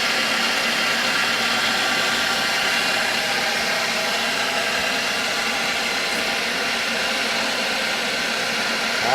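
A meat grinder packs Norwegian potato sausage mixture into casings, giving a loud, steady motor whir that runs unbroken throughout.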